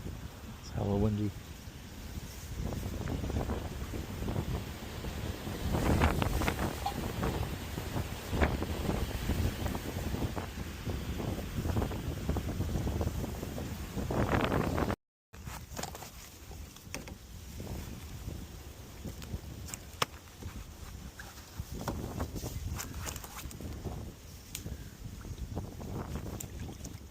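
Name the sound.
strong wind at fishing lake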